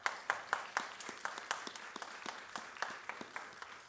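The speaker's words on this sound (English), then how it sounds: "please give a warm round of applause for our sponsors" Audience at a Key Biscayne mayoral debate claps for the event sponsors, a sparse, distinct run of individual hand claps with a steady rhythm, fairly faint and without talk.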